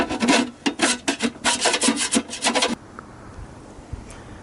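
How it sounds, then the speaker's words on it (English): A hand file rasps the sharp cut edges of a metal can smooth, about a dozen quick rhythmic close strokes that stop abruptly, leaving a quiet room. "Use a file to cut to trim the edges off till they're nice and smooth."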